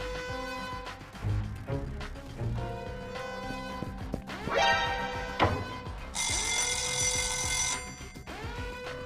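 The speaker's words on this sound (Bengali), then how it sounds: "আমি ফায়ার অ্যালার্মও শুরু করে দিয়েছি" A fire alarm going off in an animated detective cartoon produces repeated ringing, electronic tones and sweeps, with a harsh, buzzing bell-like burst near the end.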